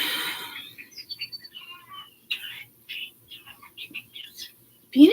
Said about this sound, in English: all that chirping over there